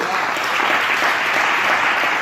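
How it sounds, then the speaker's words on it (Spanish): A church congregation gives a strong round of applause, thick steady clapping from many people filling the room without a break. "Denle un aplauso fuerte a Jesús"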